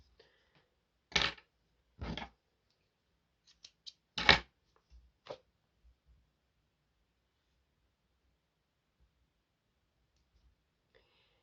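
Scissors snip off leftover yarn from a crocheted snap-clip hair barrette base: a few sharp, close cuts spaced apart in an otherwise quiet room, with no talking.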